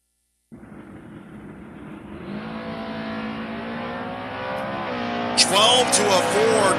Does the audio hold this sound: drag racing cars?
yes